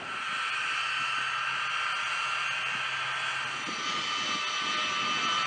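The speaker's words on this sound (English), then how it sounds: "An aircraft designed for use in austere and tactical situations is the C-17 Globemaster III transport aircraft." Jet engines of a C-17 Globemaster III military transport aircraft roar as a steady, loud broadband rush with a bright whine, continuous throughout with no talk.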